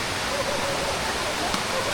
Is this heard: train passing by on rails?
no